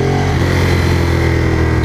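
A Ducati motorcycle engine runs steadily and loudly during a test ride, a continuous close engine drone with strong low rumble and no talking over it.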